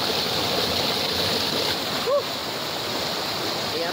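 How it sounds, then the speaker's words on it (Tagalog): Hitumnog Waterfalls in Dagami, Leyte: a steady, dense rush of falling water roaring continuously nearby, with a brief faint chirp-like sound partway through. "At ito ang Hitumnog Waterfalls."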